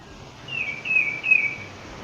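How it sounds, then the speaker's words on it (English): Birds sing outdoors, a single clear high whistled phrase rising out of faint background hiss around the middle, moderately loud and fairly near. "Oh my gosh, the birds are loud."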